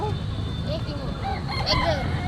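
Native desi roosters crow and cluck at Bou Bazar, a Dhaka poultry market, with several calls rising over a constant din of market noise and people talking nearby.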